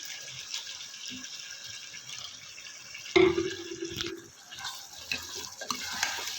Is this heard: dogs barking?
no